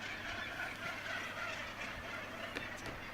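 Many nesting seabirds call across a crowded cliffside sanctuary colony in Canada, a dense, steady wash of distant cries and squawks with no talk, a few sharper calls standing out near the end.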